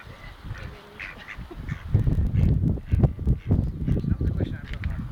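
Ducks or geese being fed chunks of bread give repeated quacking and honking calls close by, mixed with the talk of people throwing the bread.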